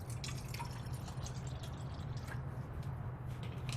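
Regular bottled water pours into a cup in a steady, close trickle that lasts several seconds, with light splashing over a low background hum.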